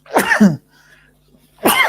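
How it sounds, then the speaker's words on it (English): A single sharp sneeze from a man during a meditation and reading talk, with a quiet pause and then a second burst of breath and voice right after. "I always have sneezing when I do the show."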